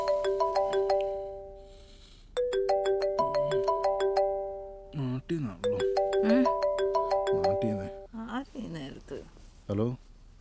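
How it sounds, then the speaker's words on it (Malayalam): A telephone ringtone chimes in repeated bursts of bright electronic tones during an outgoing call, separated by short pauses while people talk over it in a nearby room. "ഏയ്, നീ വിളിക്കേ, എൽദോനെ വിളിക്കേ."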